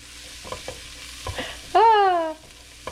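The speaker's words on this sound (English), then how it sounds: "Start cooking that down. Don't walk away from your onions." A small to medium onion cooks down in a pan with a soft, steady sizzle and a few scrapes, briefly masked by a loud rising and falling tone, with no talking.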